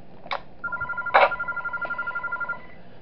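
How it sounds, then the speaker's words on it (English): Telephone ringing in the garage in the horror video game Those Nights At Wario's 3, a steady electronic ring tone pulsing in a regular rhythm for a couple of seconds, with brief clicks and thuds at the start. "I'm gonna call the phone in the garage"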